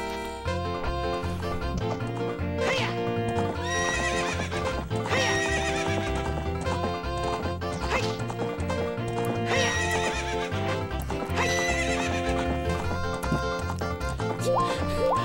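A horse in The Legend of Zelda: Ocarina of Time whinnies and neighs repeatedly while clip-clopping hooves keep up a rhythm, set against busy tonal game sounds throughout.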